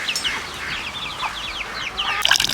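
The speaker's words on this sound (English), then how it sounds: "look at these baby chickens" Baby chickens on a farm give a steady stream of high chirps and peeps over a constant background hum, with a louder burst of activity near the end.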